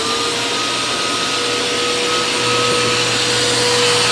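Eureka Dashsprint vacuum cleaner running continuously, a close, steady whine with a high motor tone and airy rush, no voices.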